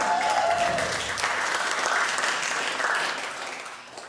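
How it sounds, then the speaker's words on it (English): An audience at an awards ceremony applauds the winners, a steady, dense clapping that fills the room throughout with no talking over it. "They were all sort of cheering for each other"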